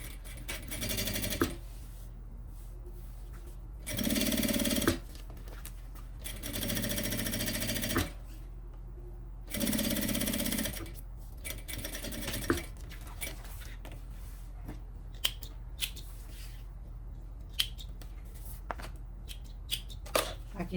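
Domestic sewing machine topstitching a sublimated fabric zipper pouch in three short bursts of rapid close stitching, each lasting one to two seconds, separated by pauses filled with light handling clicks and rustles.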